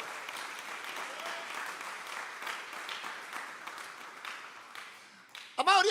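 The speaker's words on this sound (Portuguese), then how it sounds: "Quem acredita nisso, dá uma salva de palmas bem forte ao Senhor." A church congregation applauds in praise: dense, sustained clapping from many hands fills the room at moderate distance, fading slightly before a louder burst of nearby clapping at the very end.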